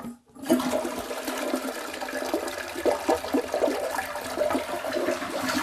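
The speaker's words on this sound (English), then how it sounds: "have you ever just looked for yourself and figured out which way your toilet swirls?" A household toilet in Alabama flushes with a loud, steady rush of swirling water that continues for several seconds, close and alone.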